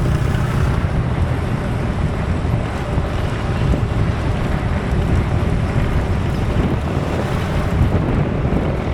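Steady wind roars into the microphone, broadband and constant, on a hillside road near windmills at Puerto Galera, with no talking.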